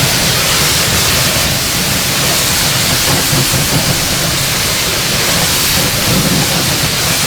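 A steady, loud rush of water rinses a car's tires, a continuous broadband spray with no breaks, heard close and alone.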